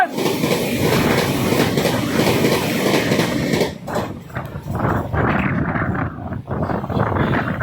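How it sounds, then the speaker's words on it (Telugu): A Visakhapatnam–Secunderabad Vande Bharat express rushes past close by, a loud continuous roar of wheels and air that drops off and fluctuates as the last cars clear. "విశాఖపట్నం నుంచి సికింద్రాబాద్ వెళ్ళే వందే భారత్ కూడా క్రాస్ చేసింది."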